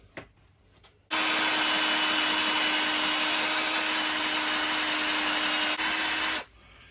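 A power drill whirs loudly and steadily for about five seconds with a constant high-pitched motor tone, then abruptly stops after a few faint knocks beforehand.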